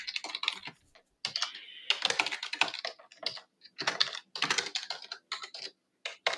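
Fast typing of C# code on a computer keyboard, with bursts of close, crisp key clicks broken by short pauses and the occasional heavier keystroke, heard alone without speech.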